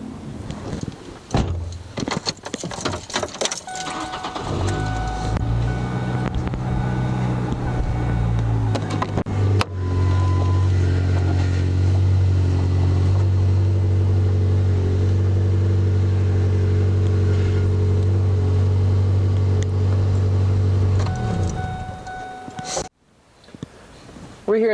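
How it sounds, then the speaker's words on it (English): Engine of a 2005 Ford Ranger cranking and catching, then idling with a steady low rumble heard from inside the cab, with people talking over it before it cuts off near the end. "I'm going to start the car and enjoy watching the power steering system come to life."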